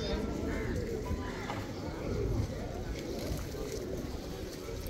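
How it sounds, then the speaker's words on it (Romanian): Flocks of pigeons in a busy Kathmandu square, soft cooing and wing flutters mixed into a dense outdoor crowd murmur with voices talking throughout. "porumbei, mii de porumbei peste tot."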